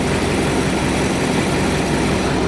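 A 3.7L MerCruiser stern drive engine on a 1984 Baretta Success 200 boat idles with a loud, steady, rumbling drone, close and constant with no voices.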